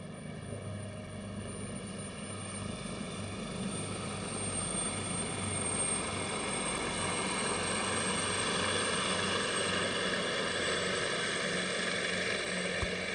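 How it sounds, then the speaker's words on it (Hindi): A Pakistan Air Force AgustaWestland AW139 helicopter flies over the Pakistan Day parade at Shakarpariyan Ground in 2024, its steady rotor and engine drone swelling gradually louder as it passes, with no voices. "एयरफोर्स का ऑगस्टा वेस्टलैंड 139 हेलीकॉप्टर।"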